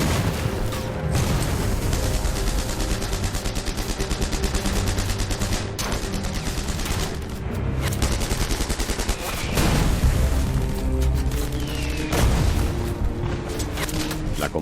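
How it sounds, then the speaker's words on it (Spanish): Small-arms gunfire from German defenders on a World War II battlefield, with rapid bursts and overlapping shots, loud and close, with heavy booming reports mixed in. "los intensos disparos que están realizando los defensores alemanes con armas"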